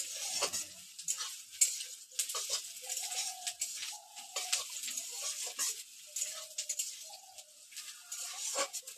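Onions sizzle steadily in a pan while being stirred with frequent scraping clicks and knocks, for a Bengali river fish curry; close and fairly quiet, no talking.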